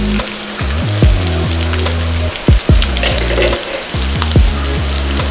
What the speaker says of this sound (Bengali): এবার আমরা আলুটা নুন হলুদ দিয়ে ভেজে তুলে রাখবো।